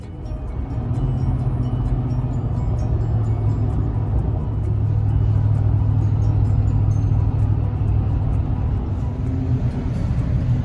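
A BMW 330Ci towing a trailer down the road, heard from inside as a steady low engine and tyre rumble with a faint whine, continuous and fairly loud, no talk.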